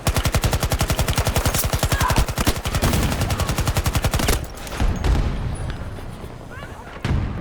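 A Bison submachine gun fires in Battlefield 2042, a long rapid burst of evenly spaced loud shots, then scattered single shots and distant explosions, with someone talking.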